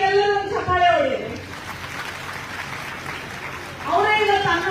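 A crowd at a widows' convention in Vijayapura claps for a woman, a dense patter of applause between stretches of someone speaking into a microphone.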